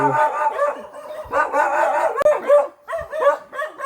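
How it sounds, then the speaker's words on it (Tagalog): Several dogs bark repeatedly in overlapping bursts, fairly close and loud, with some yelping mixed in. "Oh my god, may mga aso."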